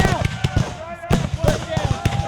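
Musket shots in a staged Civil War battle reenactment, several sharp loud cracks fired in an uneven volley over a couple of seconds, with shouted voices mixed among them.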